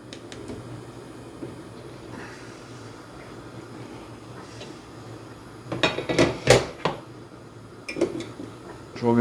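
Round fishing boilies are dropped into a pot of boiling water on a stove, giving a burst of clattering splashes and knocks against the pot near the end, after a stretch of quiet bubbling background.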